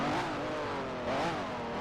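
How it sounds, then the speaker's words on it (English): Race car engine bouncing off the rev limiter in the sim racing game Automobilista 2, a loud, strained buzzing drone that holds pitch and wavers twice without easing off. "That horrible sound that Automobilista 2 does when you hit the rev limiter."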